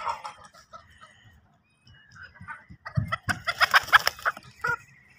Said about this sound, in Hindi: ये मुर्गी? 2 मुर्गियां हैं।